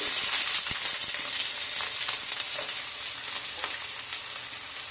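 Small shallots dropped into hot oil with curry leaves, a loud, steady hissing sizzle that fills the clip, with a few faint stirring ticks close by and no talk.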